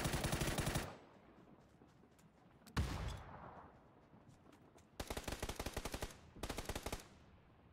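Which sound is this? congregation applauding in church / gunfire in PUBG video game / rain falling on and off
gunfire in PUBG video game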